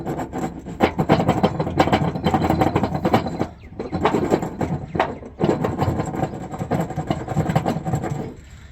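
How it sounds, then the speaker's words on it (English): A worn-out saw spindle bearing, only six months old, runs with a continuous rough grinding rumble and dense rattling texture, dipping briefly twice before carrying on steadily at close range. "That is how you tell a spindle is shot."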